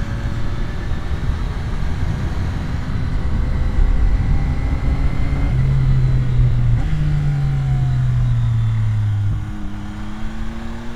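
A Yamaha R9 motorcycle engine revving on the throttle, a smooth continuous drone that climbs and shifts pitch in steady steps, loud and close, with no talking.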